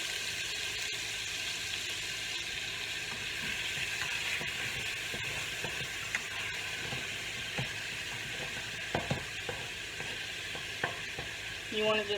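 Continuous sizzling of pork steak browning in a pot, with occasional stirring scrapes and soft clinks over the steady hiss.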